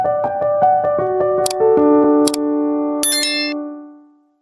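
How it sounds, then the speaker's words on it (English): A bright notification bell chime rings out alone in a quick cascade of pinging tones, then a shimmering ding that rings on and fades away. "turn on the notification bell so you never miss what comes next."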